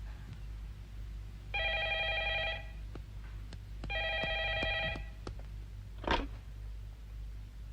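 A telephone rings twice in an Indonesian film, two evenly spaced warbling electronic trills about a second long each, followed by a soft click over a low steady hum.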